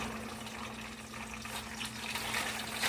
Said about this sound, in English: And we're just going to let them fry, let the hamburger fry